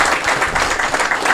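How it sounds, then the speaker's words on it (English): People applaud during a city council meeting, a brief burst of close, dense clapping from the assembled room. "Another round of applause"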